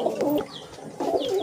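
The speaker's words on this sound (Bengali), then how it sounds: "সাদা কালারের পায়রা হয় বনো পায়রা।" Wild pigeon cooing nearby, two soft low coo phrases separated by a short pause, heard alone without talk.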